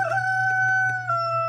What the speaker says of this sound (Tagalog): Leche na manok to.